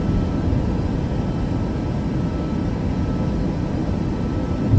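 Boeing 737 Max jet taking off in Microsoft Flight Simulator 2024, a loud, steady low engine roar with a broadband rumble that holds throughout, no talk.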